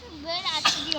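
A child sneezes once, a short sharp burst in the middle of a child's high-pitched talking and play sounds in a room.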